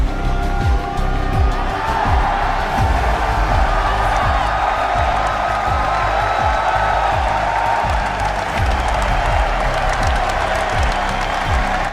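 A large crowd at the Austin Major Counter-Strike esports event roars and chants in a steady rhythmic swell, loud and dense throughout the arena.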